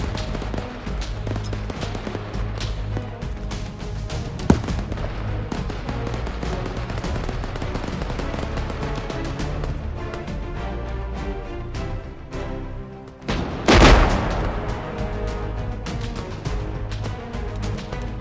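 Artillery and gunfire rumble continuously in the ARMA 3 video game's winter Altis battle, a dense wash of distant shots and booms with one louder close blast near the end and a little radio-style talk underneath.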